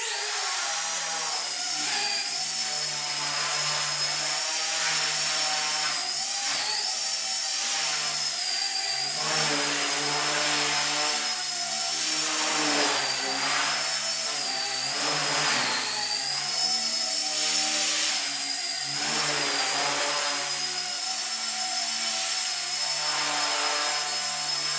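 A small Nano CPX remote-control helicopter whines continuously at high pitch, its rotor tone wavering up and down as it maneuvers nearby indoors.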